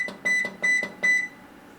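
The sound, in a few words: ultrasonic cleaner timer beeping as it is set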